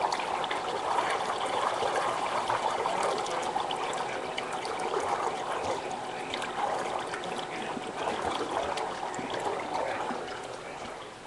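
An Italian ice machine mixing a poured-in batch, a continuous churning, watery whir that stays steady and fairly close for the whole stretch, with no talking over it.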